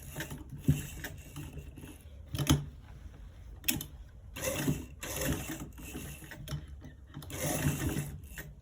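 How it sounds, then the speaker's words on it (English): Sewing machine stitching a circle design onto a fabric pocket, running in repeated bursts with mechanical whirring and rattling, loud and close, stopping and restarting several times. "So let's stitch it, stitching it to the front side."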